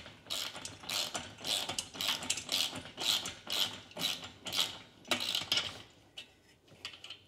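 A wrench ratchets a nut during assembly of a FAGUS H leg extension and leg curl home gym machine, giving about a dozen close, rapid clicking bursts in a steady back-and-forth rhythm with no talking.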